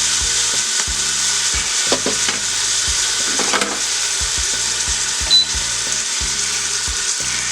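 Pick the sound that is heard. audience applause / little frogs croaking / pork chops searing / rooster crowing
pork chops searing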